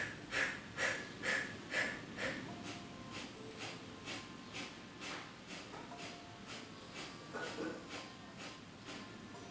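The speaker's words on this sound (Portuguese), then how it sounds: "repete a respiração do fogo, curta e rápida" A breath-of-fire exercise: a steady run of short, rapid, forceful exhales through the nose, about a dozen evenly spaced bursts, close and fairly soft during an exercise class.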